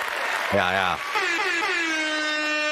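A short, loud air horn blast sounds once, followed by a second falling horn tone trailing off, with voices in the background.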